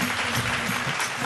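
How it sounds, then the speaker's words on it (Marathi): Loud, dense audience applause at a Marathi Mangala Gaur televised stage event, a steady wash of many hands clapping close and continuous, with a faint voice underneath. "जोरदार टाळ्या यांच्या विहीणबाईंसाठी वाजूयात."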